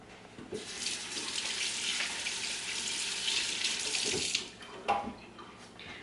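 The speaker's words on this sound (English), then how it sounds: "I'm going to wash my hands before I put them in there." Hands washed under a running kitchen tap while stuffed peppers are prepared, a steady splashing stream of water with a few louder splashes near the end, no one speaking.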